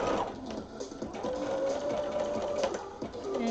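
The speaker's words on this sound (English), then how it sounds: "And yes, I sew over my pins." Sewing machine stitching steadily over pins holding fabric together, a continuous close-up whir with slight changes in speed and no talk.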